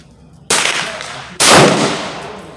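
An AR-15 rifle fires twice at a target 100 yards away on an outdoor range: two loud, sharp cracks about a second apart, each trailing into a long, fading echo.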